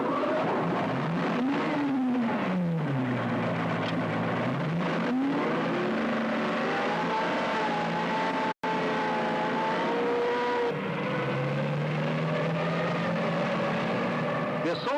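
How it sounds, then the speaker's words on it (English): Armoured assault group vehicles led by an intimate support tank move off, heavy engines droning and rising in pitch as they pull away, steady and continuous with a voice talking over them. "The assault group moves off to destroy the enemy position, led by the intimate support tank."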